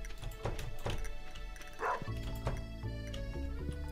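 A puppy in Stardew Valley barks several times in quick yips, close and clear, over a soft looping game music bed, with no talking.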